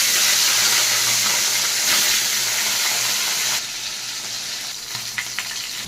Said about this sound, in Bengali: মাছগুলোকে আমি এক এক করে ভেজে নেব।